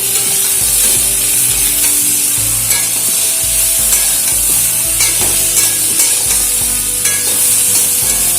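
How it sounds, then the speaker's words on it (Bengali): Fresh drumstick stalks frying with vegetables in a pan for a vegetarian curry, giving a steady, fairly loud sizzle with repeated stirring scrapes throughout and no talking. "ডাঁটাগুলো দিয়ে একটু ভেজে নিলাম"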